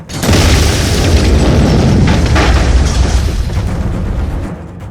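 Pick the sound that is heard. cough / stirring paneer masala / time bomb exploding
time bomb exploding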